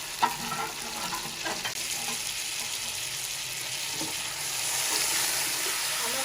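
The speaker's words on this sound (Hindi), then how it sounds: "ये हम मसाले के अंदर फ्राई करेंगे" Boiled salted mutton fries in spice masala with garam masala, a steady close sizzle running throughout, broken by occasional scraping of stirring.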